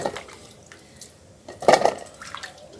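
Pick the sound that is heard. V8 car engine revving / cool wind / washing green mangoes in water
washing green mangoes in water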